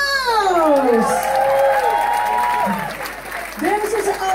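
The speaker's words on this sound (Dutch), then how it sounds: "Geef een applaus!" Applause and cheering from a crowd at a Dutch television event, the clapping partly masked by loud whooping, whistling and excited voices sliding up and down, with a burst of clapping returning near the end.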